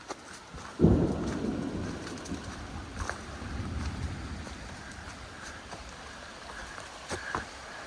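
Thunder rumbles through a storm beside Moshannon Creek, a loud crack near the start rolling into a long, low, lingering growl that slowly fades, with a second swell midway and faint birds and rain in the background.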